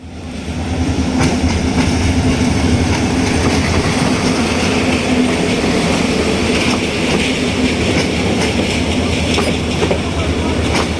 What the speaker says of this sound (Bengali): আরেকটি উপচে বরাব ভিড়ে যাত্রীদের নিয়ে অপেক্ষা করছে ঢাকার দিকে যাওয়ার জন্য এই ট্রেনটি